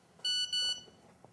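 Two loud, sharp electronic beeps from a phone emergency alert sound in quick succession, a high pure tone with overtones, alone.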